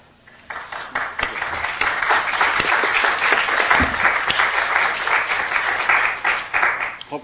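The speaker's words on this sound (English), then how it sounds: "I'll be clapping for Bruce" Audience applause fills a lecture hall at a museum talk on repatriation and the care of Native collections, a steady dense wash of many hands clapping that swells quickly and holds loud and even throughout.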